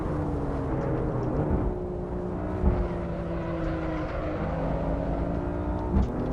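BMW M4 engine in the Assetto Corsa racing game at Laguna Seca, a steady revving drone with shifting pitch as it changes gear, with two brief bumps over the continuous engine note.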